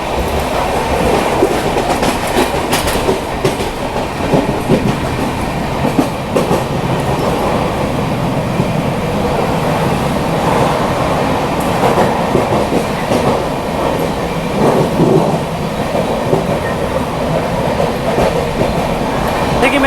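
A Suvidha Express train running, heard from inside a sleeper class coach: a loud, continuous rumble with rhythmic wheel clatter and faint metallic squeals, steady throughout with no pause.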